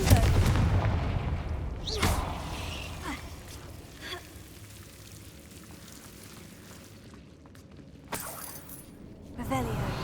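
Confringo fire spell blasting in Hogwarts Legacy, a sharp boom near the start with a crackling burst trailing off, then another loud impact and rumble toward the end over low game ambience.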